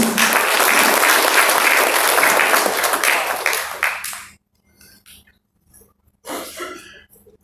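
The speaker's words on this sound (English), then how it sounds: "let's have a huge round of applause" Enthusiastic applause from an event audience, loud continuous clapping for about four seconds that quickly fades to a few scattered claps, followed by a brief renewed burst.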